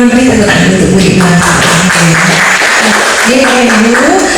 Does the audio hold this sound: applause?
yes